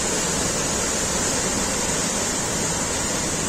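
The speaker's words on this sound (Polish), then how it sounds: "Z góry strzykająca woda, zlatująca." A Norwegian waterfall pours down from above as a loud, steady roar of falling water that fills everything, with no other sounds standing out.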